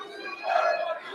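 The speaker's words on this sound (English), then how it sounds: "They are chanting YouTuber, purposely trying to piss them off" A crowd chants YouTuber at the Jake Paul vs Mike Tyson press conference, a brief swell of many voices rising together, with a blend of shouting that sounds somewhat distant.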